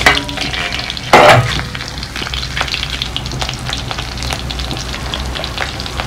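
Ivy gourd pieces fry in hot oil, a loud, close, continuous sizzle and crackle with a short burst of sharper spatter early on and light stirring clinks, with no voices.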